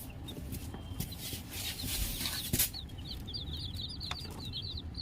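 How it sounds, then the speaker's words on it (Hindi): Day-old chicks chirp in a cold brooder as it is switched on, with many high, thin peeps overlapping and repeating steadily and close, with no talking. "ये रहे मैंने चूजे, ये देखिए अभी ये सब ठंड के मारे इधर उधर सुखड़े हुए हैं"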